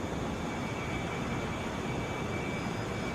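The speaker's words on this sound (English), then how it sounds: "This is JetBlue 520 headed to JFK." A JetBlue airliner bound for JFK at Atlanta International Airport fills the air with a steady, broadband jet roar that holds at an even level throughout, with no voices.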